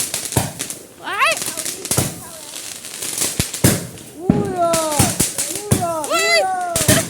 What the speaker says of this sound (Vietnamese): pháo năm nay đẹp hơn năm ngoái